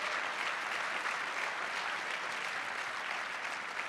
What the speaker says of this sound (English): Can we give them a big, gigantic round of applause?